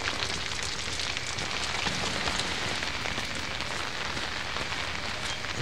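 Rain in the video game Outlast, a steady, dense patter of rain on surfaces that continues unbroken at an even level, with no voices over it.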